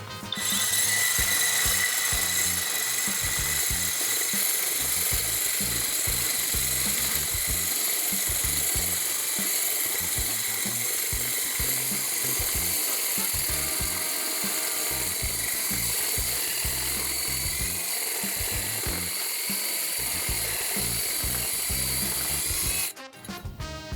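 A Dnipro-M brushless rotary hammer in drilling mode bores with an RX core bit and pilot bit, giving a loud, continuous grinding rattle up close that runs steadily for over twenty seconds before cutting off near the end.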